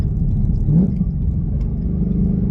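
Ford Mustang GT downshifting, a close low engine rumble with a brief rising blip in revs, no voices.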